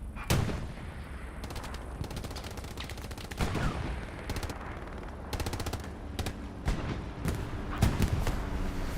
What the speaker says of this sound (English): One rocket to the side of the Panzer IV.